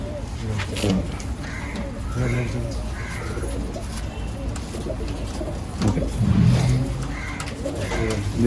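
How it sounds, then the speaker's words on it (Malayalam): Pigeons cooing in a loft, repeated soft throaty coos in short rhythmic bursts, close by, with someone talking over them. "ഇതാട്ടോ പ്രാവ്"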